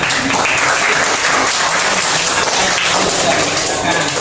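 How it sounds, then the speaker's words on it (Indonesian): A class of young pupils claps together in a primary school classroom, a loud, dense patter of many hands right up close, with voices mixed in. "Betul? Betul, tepuk tangan."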